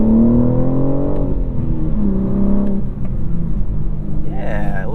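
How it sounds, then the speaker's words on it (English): Exhaust and engine note of a 2021 BMW M4 with a six-speed manual, driven in M2 mode: a steady, loud rumble with rising and falling pitch as it revs, under continuous in-car talk. "You can hear how it changes the exhaust note. You can hear that exhaust is slightly louder."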